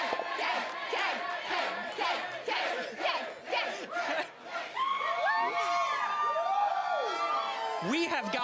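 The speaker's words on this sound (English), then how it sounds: "What is it like to see this crowd yelling your name?" Loud crowd at the Ant-Man and the Wasp: Quantumania red carpet cheering, whooping and yelling for actor Jonathan Majors, with rhythmic chant-like shouts giving way to sustained high screams and squeals, dense and close.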